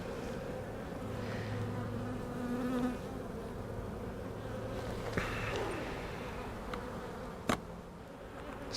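Honeybees hum steadily inside a queenless hive while a beekeeper searches the frames for the new queen after an artificial swarm, a dense continuous buzz with a couple of brief clicks and knocks.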